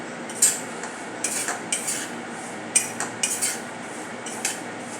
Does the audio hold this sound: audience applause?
no